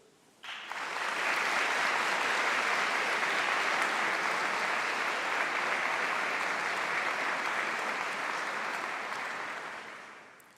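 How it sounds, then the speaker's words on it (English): A large audience in a hall applauds at a university graduation ceremony, the dense clapping swelling in quickly, holding steady and loud for about ten seconds, then tapering off. "please can you give a second round of applause to thank those here in the hall"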